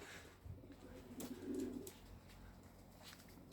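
Soft, low cooing of young homing pigeons nearby, a short gurgling call rising in the middle against a quiet outdoor background.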